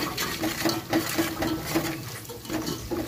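A spoon stirs egg biryani masala in a cooking pot, scraping and knocking against the metal in steady repeated strokes over a soft sizzle of frying, close and moderately loud.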